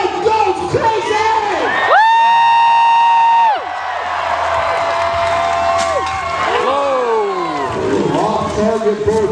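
A crowd at a Renaissance festival joust cheers and shouts loudly, children's voices and whoops among them, with a sustained horn-like tone and an announcer's voice over the din.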